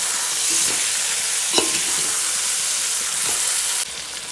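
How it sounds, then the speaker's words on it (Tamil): Large chicken pieces for mandi fry in a pot as they are stirred, a loud, steady sizzle with a few scraping clunks of the spoon, close up and with no talk. "இப்போ இதை வந்து நல்லா வந்து கிளறி விட்டுக்கலாம்"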